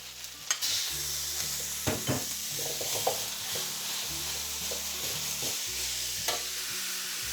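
Minced beef stir-fries with curry paste in a hot pan, with a steady sizzle broken by sharp spatula scrapes and clacks at irregular intervals and no talk.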